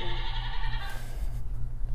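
A goat bleats at close range in a wavering, drawn-out cry that fades after about a second, over a low steady rumble of background noise.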